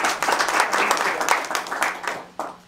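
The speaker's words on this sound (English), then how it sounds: "Keep that applause going for our superintendent of East Aurora Schools" Audience applause for a school superintendent at a community conversation on education, a dense patter of many hands that stays loud for most of the clip, thins out near the end, and then has one last sharp burst.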